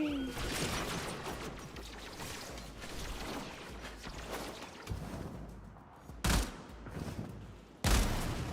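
In the Warframe shooter, an explosive barrel is shot amid ongoing mechanical game noise, and two sharp, loud bursts stand out a second or so apart near the end.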